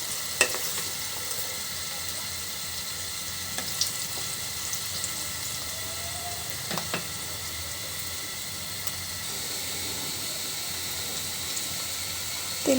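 Onions fry in oil in a pan, giving a steady, even sizzling hiss with a few faint clicks and taps along the way. No one speaks.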